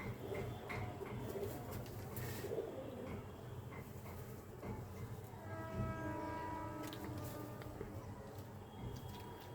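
Pigeons coo softly in a loft, repeated low rolling calls over a faint background hum with no voices.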